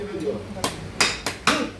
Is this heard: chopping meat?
yes